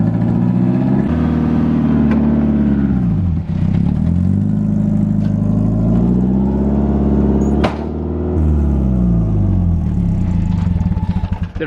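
A Toyota AE86 with a Beams engine and side-exit exhaust pulls away under throttle, a loud, close raspy engine rising and falling through several rev sweeps and gear changes with no talk over it.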